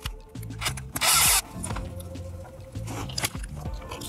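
A power drill drives screws, treated with a little Loctite, into an aluminum no-prep drag racing wheelie bar mount. One loud, high-pitched whirring burst of about half a second stands out over a low mechanical hum in the shop.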